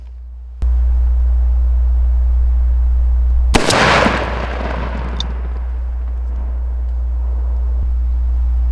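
A shotgun fires a single 3.5 inch number 6 lead turkey shell outdoors, one sharp loud blast followed by a long fading decay over a constant low background rumble.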